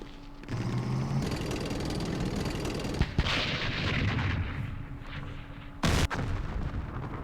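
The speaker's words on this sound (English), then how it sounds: "there's a mortar" Mortar and artillery fire in a World War II strategy war game, a dense continuous roar of distant gunfire with sharp explosive cracks near three and six seconds, no talking over it.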